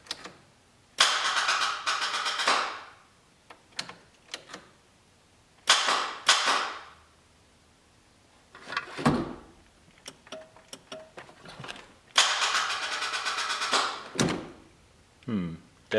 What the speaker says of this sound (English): I just wanna see if the starter will turn the engine.